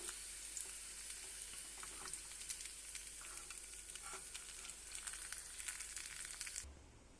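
Potato evening snacks deep frying in hot oil, a steady close sizzle and crackle with scattered pops running throughout, then cutting off abruptly near the end.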